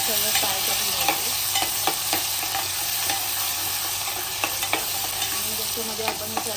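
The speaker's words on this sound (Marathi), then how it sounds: "पेस्ट फ्राय झाली ना सगळं फ्राय करून घ्यायचं." Spice paste frying in a pan at close range, a constant hiss of sizzling oil with regular knocks and scrapes of a spoon as it is stirred, and no voices.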